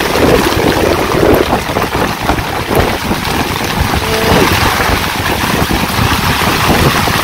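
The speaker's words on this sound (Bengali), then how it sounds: "যাই দেখি বাতাস ছাড়ছে প্রচুর" Strong wind gusts with steady rain during a rainy day in a village, a loud continuous broadband roar with rumbling buffeting of the microphone throughout.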